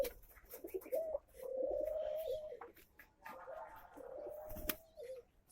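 Racing pigeon chicks give soft, drawn-out cooing calls in a few runs, one after another, close by over faint background noise.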